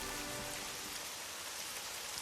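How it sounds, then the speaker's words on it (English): Rain in a Nintendo DS role-playing game makes a steady, soft hiss of falling drops. It sounds faint and even throughout, with no voices. "it rains a lot in this game, and I really like rain"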